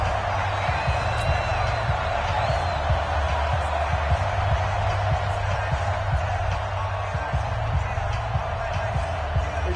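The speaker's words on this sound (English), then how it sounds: "The crowd getting into it as we come up on a big 3rd down." Football stadium crowd roars as the Cowboys face a big third down in a close one-score game, a steady, loud, dense wall of cheering and noise with no break.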